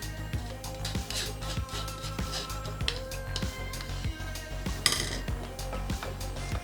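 Orzo and broccoli pasta salad being tossed and stirred in a bowl, with close, steady scraping and clinking of utensil against the dish in uneven strokes, plus sharper knocks now and then.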